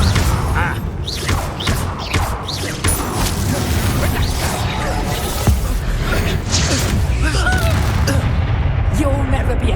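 A Bombarda explosion spell in Hogwarts Legacy, with several sharp booming blasts and crashes scattered over busy combat noise and mechanical clatter, loud and close.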